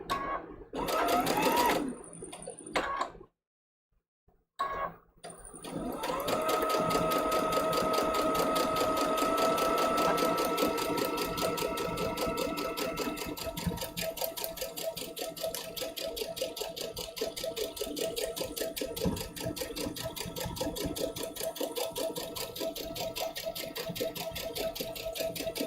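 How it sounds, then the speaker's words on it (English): Sewing machine stitching a small foundation-paper-pieced quilt block along an inside line, running steadily and close for over twenty seconds after a brief stop-start opening, with a busy mechanical whir and rattle. "we're sewing right on that inside line."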